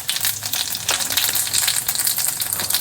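Mustard seeds, cumin and asafoetida fry in hot oil over a low gas flame, giving a continuous dense crackling sizzle with small popping bursts, close and steady.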